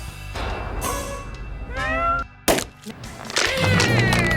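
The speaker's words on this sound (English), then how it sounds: "they both turned a ferocious feline into a little house cat" A house cat meows several times in short bursts, loud and close, with a few thumps between the calls in an animated Lego scene.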